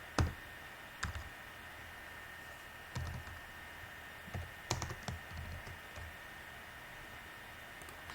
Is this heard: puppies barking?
no